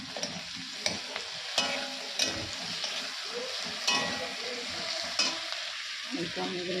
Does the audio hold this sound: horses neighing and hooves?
no